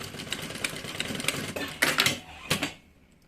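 A sewing machine runs in a steady stitching whir, then stops and starts again in two short bursts for a backstitch while sewing a changing pad that converts into a bag, loud and close with no talking.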